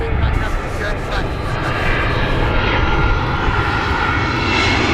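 British Airways Airbus A380 airliner at Gatwick Airport, its engines giving a loud, steady jet roar that fills the whole stretch, close by and continuous.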